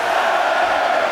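Wrestling crowd at a live independent show chanting and counting along in unison as kicks land, a dense, steady roar of many voices filling the arena throughout.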